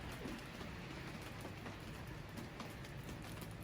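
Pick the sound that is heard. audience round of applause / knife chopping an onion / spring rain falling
spring rain falling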